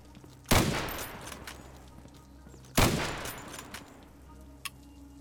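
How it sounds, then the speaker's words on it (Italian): Gunfire in the video game Zero Sievert: two loud, separate shots a couple of seconds apart, each with a long echoing decay into a quiet background, then a faint short click near the end. "Sento già spari"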